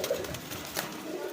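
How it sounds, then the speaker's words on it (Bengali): Racing pigeons give a brief burst of soft, low cooing close by, faint and over in a moment. "পাগলা ছটফটা কবুতর"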